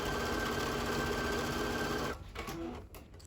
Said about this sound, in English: So I'm going to sew that on my sewing machine.